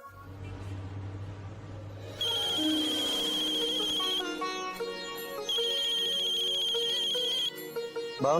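A mobile phone rings loudly and close by with a repeating electronic melodic ringtone, starting after a quiet moment and playing in several bursts in a domestic scene.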